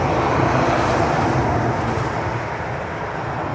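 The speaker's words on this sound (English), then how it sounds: "please excuse the loud traffic." Loud street traffic roars past outside, a dense, continuous wash of passing vehicles with no break in its steady level, heard up close, with no talking.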